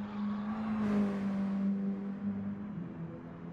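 A Mini Cooper race car in a Mini Cooper Cup race at Suzuka East rounds turn one, its engine droning loudly and steadily with a sweeping pass, loading the outside left tyre.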